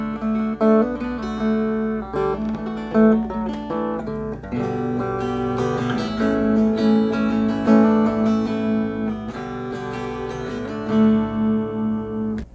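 A guitar plays the intro of a song, with rhythmic strummed chords and picked notes at a steady pace, up close and without talk.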